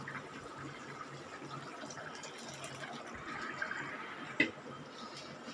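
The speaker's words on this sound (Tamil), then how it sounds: "இப்போ இந்த கிரேவிலேயே நம்ம அரைச்சி வச்ச தேங்காயெலாம் ஊற்றிடலாங்க." Ground coconut paste is poured into a simmering drumstick masala gravy, giving a faint, steady wet pouring and sloshing sound with one small clink near the end.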